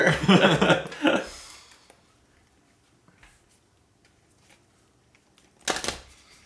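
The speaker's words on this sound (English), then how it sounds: "as I shuffle my giant deck here" A large deck of board-game cards is shuffled close by in a loud, dense burst of riffling and snapping, then near-silence with a few faint taps before a second short, sharp shuffle.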